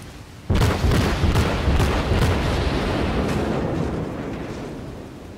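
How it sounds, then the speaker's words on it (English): Heavy naval gunfire from an enemy warship in the World of Warships game, with the Chikuma cruiser in play: a string of loud booming salvos on a dense rumbling bed that slowly fades. "And he's firing on me."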